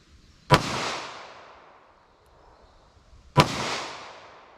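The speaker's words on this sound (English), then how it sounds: "I'll try a couple more shots here." .38 Special FMJ rounds fired in a ballistic test, two sharp, loud gunshots about three seconds apart, each followed by a long decaying outdoor echo.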